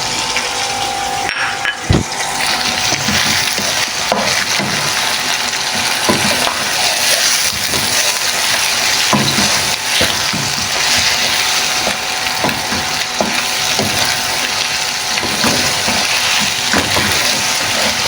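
Chicken frying in a pan with ginger and garlic paste gives a steady, dense sizzle throughout, broken by scraping and clacking from stirring.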